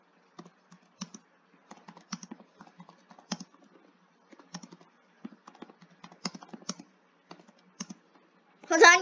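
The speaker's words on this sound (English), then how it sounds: "Sorry, I'm typing." Quiet, uneven typing on a computer keyboard during a Roblox obby game, with light clicks in short bursts and pauses, ending in a brief louder sound.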